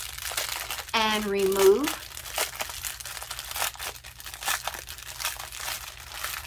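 A plastic bag holding diamond painting drills crinkles and rustles up close, with short crackly bursts heard under and between a person's speech.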